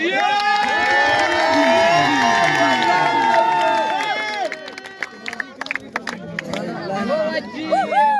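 A lively crowd at a kabaddi match cheers and claps, loud and sustained, with voices calling out over the noise before it thins into scattered clapping and chatter.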